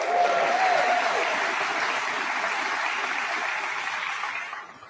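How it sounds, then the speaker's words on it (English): An audience at a community address in downtown Macon, Georgia claps and cheers steadily for several seconds, a dense, moderately distant applause that fades out at the end, with one brief whistle early on. "What about cheering for this building if you've had fun here, plan to have fun here,"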